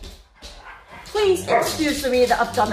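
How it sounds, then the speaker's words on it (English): Dogs bark, yip and whimper indoors while they play, with someone talking over them throughout. "Sorry about the dogs playing."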